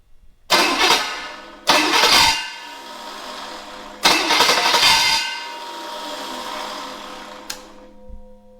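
Small block Chevy V8 with a faulty flywheel cranking in three loud, separate bursts, each a harsh grinding churn lasting about a second, close by, with a low hum lingering between attempts.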